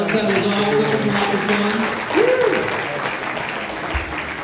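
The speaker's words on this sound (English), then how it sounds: "Give yourselves a round of applause." A concert crowd at a reunion show applauds loudly and steadily, with brief voices and musical tones mixed into the clapping.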